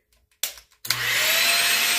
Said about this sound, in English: Using a vacuum cleaner.